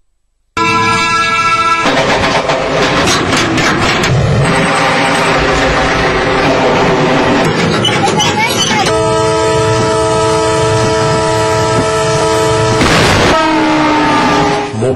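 At an unmanned railway crossing, a train rumbles loudly past for many seconds with repeated horn blasts, under a voice.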